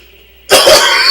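A single sharp, loud cough bursts out after a brief quiet moment, its rough, breathy tail carrying on to the end.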